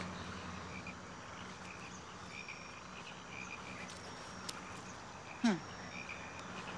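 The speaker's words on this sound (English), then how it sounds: "When you hear the frogs croaking in the deepest night" Faint frog croaks and insect chirps fill a quiet night scene, with one brief louder call near the end.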